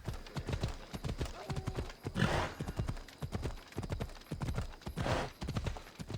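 Horse hooves clip-clop steadily along a road in the video game Assassin's Creed Odyssey, a brisk close rhythm with two breathy snorts between the strides.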